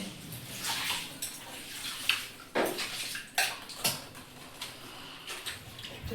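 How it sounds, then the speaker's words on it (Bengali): Items are rinsed with water inside a family quarters home: a steady, close wash of splashing and pouring, with intermittent knocks and clatters as things are handled, and no talking. "দেখো এগুলো সার জল দিয়ে ধুয়ে নিচ্ছি।"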